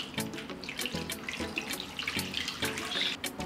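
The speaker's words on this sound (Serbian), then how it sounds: "Nalit ću sa vodom do visine poklopca." Water pours steadily into a large cooking pot lined with a cloth and packed with lidded glass jars, filling it to lid height; a continuous close splashing stream with uneven gurgles runs throughout, with no talking.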